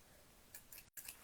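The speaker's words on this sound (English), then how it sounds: "Oh no, these scissors are quite bad." Bad scissors snipping through thin tissue paper during a paper-flower craft, giving a couple of quick dry crunchy cuts close up, followed by a short silent gap and another snip.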